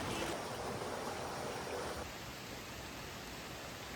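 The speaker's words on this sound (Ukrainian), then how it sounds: "Тут поробили фактично канали для води, які від водоспадів пливуть." Water rushing steadily through stone channels fed by waterfalls in the mountains of northeastern Lombok, Indonesia, a broad continuous wash that drops slightly in level halfway through, with no voices.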